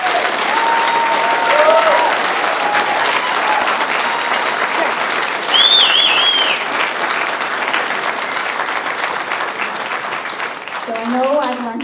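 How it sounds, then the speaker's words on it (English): An audience at a community wildfire information session breaks into sustained applause, loud and steady throughout, with a few voices and cheers rising above the clapping. "So Jason deserves a huge round of applause."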